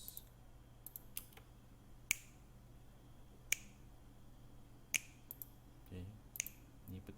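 Sharp, dry finger snaps ring out one at a time at spaced intervals, close to the microphone in a quiet room, with faint low hum underneath.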